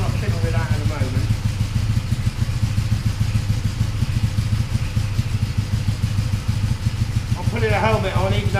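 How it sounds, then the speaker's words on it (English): Cold motorcycle engine idling at a low tick over, a steady close rumble with an uneven beat throughout, with someone speaking briefly over it at the start and again near the end. "Tick over's a little bit low, but it's not warm yet."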